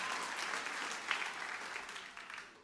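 Church congregation applauding warmly during a Christmas Day sermon, a steady wash of many hands clapping throughout, fairly distant and even, tapering slightly at the end.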